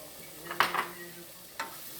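Onion sautéing in a pan in a home kitchen, heard as a few short scraping stirs and a light sizzle, with a last quiet scrape after a pause.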